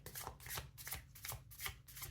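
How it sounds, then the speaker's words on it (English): Close, quiet riffle shuffling of a Rider White tarot deck, with about five quick rhythmic bursts of card flutter in steady succession and no talking. "feel free to fast forward, Libra, through the shuffling"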